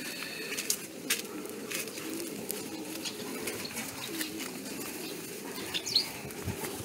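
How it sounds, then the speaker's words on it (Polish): Racing pigeons from Rick Custers' line at a Polish pigeon loft give soft, low cooing that runs steadily under scattered wing flaps and shuffling, close by and fairly quiet. "mamy gołębie tutaj od Ricka Custersa"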